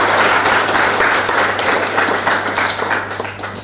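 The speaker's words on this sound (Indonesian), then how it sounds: "mari kita kasih aplaus" Lecture-hall audience applauding after a public university lecture, dense steady clapping from many hands, close and loud, tapering slightly at the end.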